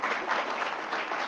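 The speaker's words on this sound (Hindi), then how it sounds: "उनके लिए भी एक जोरदार तालियां" An audience applauds teachers at an institute event in Ghaziabad, a dense, steady patter of many hands clapping at once, moderately loud and alone for a moment.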